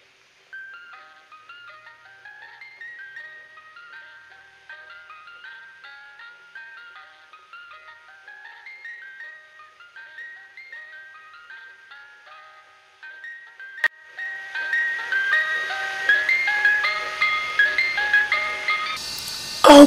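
An ice cream truck jingle tinkles its repeating melody, faint and distant at first, then suddenly much louder and fuller as it draws close near the end.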